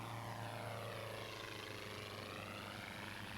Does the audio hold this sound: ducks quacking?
no